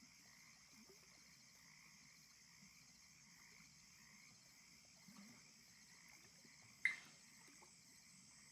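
Frogs croaking outdoors, a faint continuous rhythmic chorus of trilling calls with a steady high insect-like drone, broken by one sharp, louder click or croak near the end.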